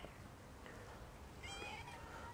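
A female cat in heat calls out with a drawn-out, wavering meow near the end, fairly quiet against a steady background hiss.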